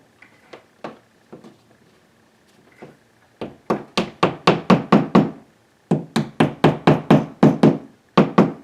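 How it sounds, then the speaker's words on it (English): A series of sharp hammer taps on a molly anchor going into a wall, a few scattered ones first, then two steady rapid runs of firm knocks close by, with no talking. "We take our hammer and just tap it."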